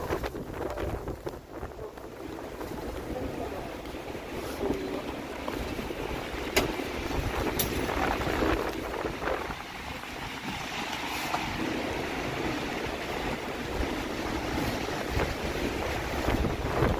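Strong wind gusts across a microphone on a freezing, rainy Toronto evening, a steady low rumbling buffet with no speech.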